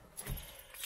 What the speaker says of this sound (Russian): Ключик вот от нее, короче.